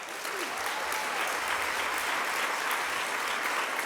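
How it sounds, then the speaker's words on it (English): Sustained, dense applause from a large audience at a national GEAR UP conference, steady and fairly loud for several seconds with no break. "Give yourselves a round of applause."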